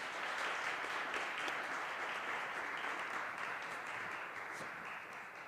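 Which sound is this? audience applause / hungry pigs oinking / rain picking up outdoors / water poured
audience applause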